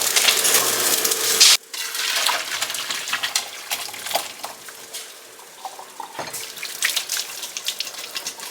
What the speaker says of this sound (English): Just quickly use our colander.